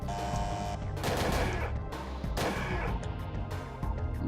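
A gun in Parasite Eve 2 fires single shots and three-round bursts at targets, a busy run of sharp, loud reports and rapid clusters layered over steady game background noise.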